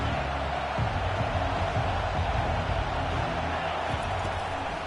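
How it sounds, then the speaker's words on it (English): A stadium crowd in College Football 25 roars as a steady, dense wash of cheering with no breaks. "This crowd bringing the energy and noise early."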